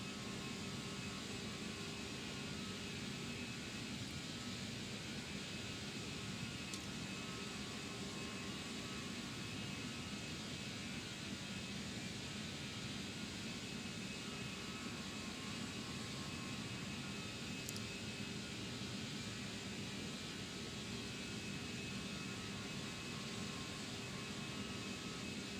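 Simulated CFM56 jet engines on a ToLiss A320 in a flight simulator game, a steady, even broadband hum and hiss with a faint tonal whine, unchanging for the whole stretch and fairly quiet.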